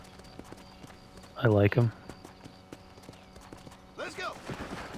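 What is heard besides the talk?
horse hooves clip-clop in Red Dead video game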